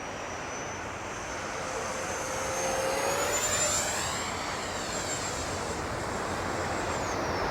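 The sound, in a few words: FMS EDF 64mm J-10 RC jet flying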